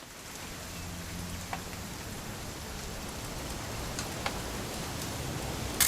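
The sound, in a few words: rain falling, from the video game What Remains of Edith Finch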